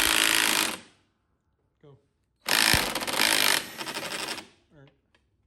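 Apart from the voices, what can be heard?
impact wrench removing mower steering wheel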